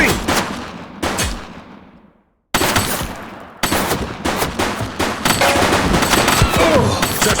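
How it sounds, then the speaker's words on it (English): Loud bursts of gunfire in The Precinct video game crack out in separate volleys, with a brief silence partway through before rapid repeated shots resume and build into a sustained barrage. "He's shooting!"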